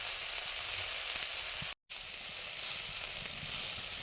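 Drumstick flowers frying in hot oil in a home kitchen, a close, continuous crackling sizzle that drops out abruptly for a moment, then resumes at the same steady level, with no voices.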